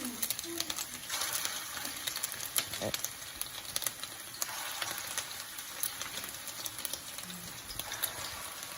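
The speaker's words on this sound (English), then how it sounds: "Now comes the fun part of frying the meatballs. Hot oil." Steady crackling sizzle of meatballs frying in hot oil, with scattered pops and spits throughout, fairly close and moderately loud.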